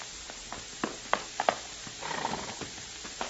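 Horse hooves clip-clop in a radio drama with a series of sharp, irregular knocks, some louder and close, plus a brief whinny-like sound near the middle and no talk.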